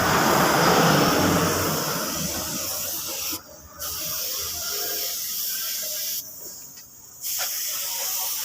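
Spray gun hissing steadily as candy red paint is applied to a Yamaha Mio motorcycle body panel, a loud continuous spray broken by two short pauses, with no talking.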